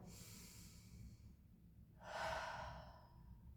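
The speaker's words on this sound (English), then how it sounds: "3 big breaths." Slow, deep breaths taken while lying on a therapy ball during a stretching exercise, a long soft exhale followed by a fuller inhale, close and quiet, with no talking.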